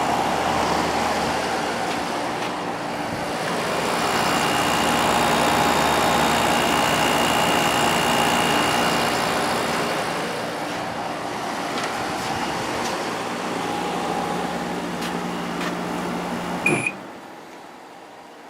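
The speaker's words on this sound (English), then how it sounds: "Compressor sounds real nice." A Samsung 10,200 BTU air conditioner's compressor runs with a steady, fairly loud mechanical hum and whir. The sound holds continuous for most of the stretch, then a brief click near the end before it cuts off.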